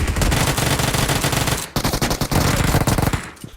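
Rapid automatic gunfire from a first-person shooter game, loud and continuous bursts with a brief gap near the middle, then more sustained firing toward the end, no talking.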